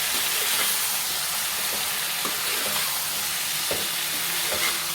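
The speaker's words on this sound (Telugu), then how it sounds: "వంకాయలు వేసాం కదా, మంచిగా కలుపుకోవాలి." Brinjal and tomato curry being stirred in a pan, a steady sizzling fry with soft scraping strokes recurring every second or so, close and continuous.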